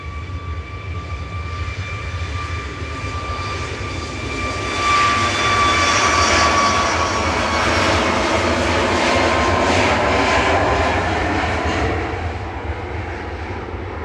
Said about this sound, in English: Ryanair's departing in parallel to Alicante with